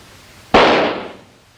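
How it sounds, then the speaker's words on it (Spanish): A firecracker goes off in a single sharp, loud bang that cuts in abruptly and decays over about half a second into silence. "Cuando el petardo explotó, hizo mucho ruido"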